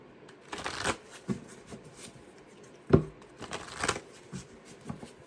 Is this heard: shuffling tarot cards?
yes